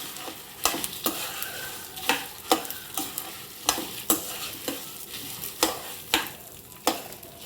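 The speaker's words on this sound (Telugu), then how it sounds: "ఇలాగా రెడ్ చిల్లీ వేసి వేయించుకోవాలి" Red chillies frying with ivy gourd curry in a pan: a soft continuous sizzle with crisp spatula scrapes, repeated roughly every half second, close and clear with no talking.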